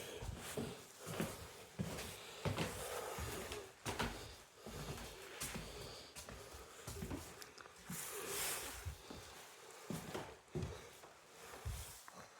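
Old wooden floorboards in an old house give faint, irregular creaks and soft knocks as someone moves across them, quiet and scattered with no talking.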